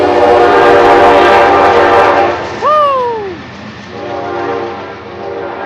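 A train horn sounds loud and close in one long falling blast, with a rumbling passing train underneath and a voice cheering just before it.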